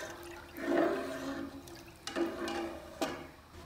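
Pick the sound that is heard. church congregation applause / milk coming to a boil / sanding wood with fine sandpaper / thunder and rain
milk coming to a boil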